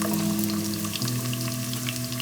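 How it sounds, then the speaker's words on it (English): Garlic fries in hot oil with a dense, steady sizzle and crackle heard close up, for Nepali tomato chutney for momos, with no talking. "this oil is hot, so I'm going to put garlic first."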